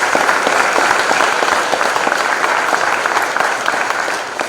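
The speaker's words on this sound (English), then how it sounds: "So again, give him another round of applause." Sustained applause from an audience at a college event, a dense, steady wash of many hands clapping loudly throughout, tapering slightly at the very end.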